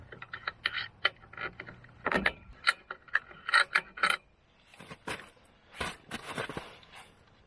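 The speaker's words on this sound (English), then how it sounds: "I use my Gerber, first of all, to start off with loosening these." A Gerber multitool loosens ski fittings in a run of close, crisp metallic clicks and scraping rasps that come in uneven bursts, with brief quiet gaps between handling noises.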